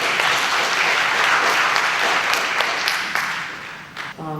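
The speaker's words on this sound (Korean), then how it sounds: "박수로 환영해 주시길 바랍니다." A forum audience applauds to welcome a speaker at a lifelong learning event in Ansan, steady sustained clapping filling the room, fairly loud and continuous, with a brief voice near the end.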